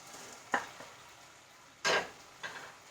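Fried beef stirred through a sizzling pan, heard as three short scraping, sizzling bursts over a low, quiet background, the middle one loudest.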